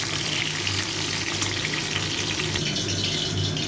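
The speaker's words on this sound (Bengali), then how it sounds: "পটলটা সুন্দর লাল করে ভাজা হয়ে গেছে।" Pieces of pointed gourd (potol) frying in hot oil until reddened, a steady bright sizzle and crackle running continuously without talk.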